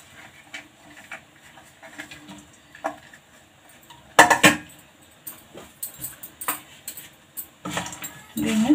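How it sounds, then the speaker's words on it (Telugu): Almonds and cashews dropped into a pan for a semiya kesari sweet, giving scattered light clatters and clinks with a few louder metallic knocks, no talk. "ఫస్ట్ దీంట్లో బాదం, జీడిపప్పు వేసుకుందాం."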